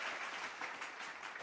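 A short burst of dense applause greets award winners at a national achievement day prize celebration, many hands clapping evenly at a moderate, slightly distant level, with no speech over it.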